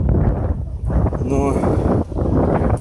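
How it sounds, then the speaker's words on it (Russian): Strong summer wind blowing outdoors on a street in Bendery, roaring steadily into the microphone as buffeting noise, with a person talking over it throughout. "Это у нас вот так вот дует летом."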